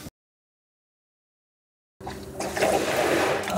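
A pump switched on to drain water from a hot tub starts after about two seconds of silence, then rises into a steady gushing rush of water and motor noise, close and loud.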